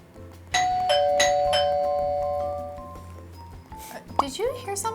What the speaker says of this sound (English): I think someone is ringing our doorbell.